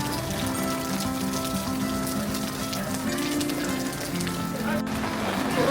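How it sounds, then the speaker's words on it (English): Rain falls steadily around a roadtrip stop near Chicken, Alaska, a continuous soft hiss with faint tonal sounds woven through it and a sharp click near the end. "It's a little rainy out there."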